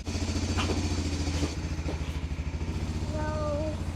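A vehicle engine at a snowy off-grid cabin in winter runs with a loud, steady, chugging idle close by, wavering slightly as it settles, with a brief voice faintly over it near the end.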